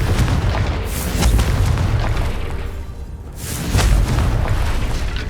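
A Confringo fire spell exploding in Hogwarts Legacy: loud, sustained booming blasts, one rolling explosion followed by a second heavy burst after a brief dip.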